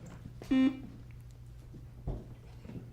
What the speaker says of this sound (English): Could you hit that buzzer one more time?